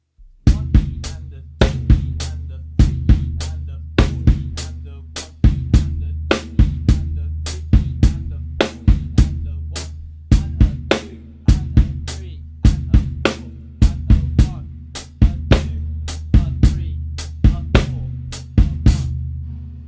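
Sixteenth-note drum kit groove with consecutive bass drum notes placed among hi-hat and snare hits, played steadily and loudly with no voices for about twenty seconds.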